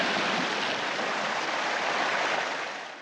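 A waterfall in a movie scene gives a steady, dense rushing roar, loud and continuous throughout before easing off slightly at the very end, with no voices.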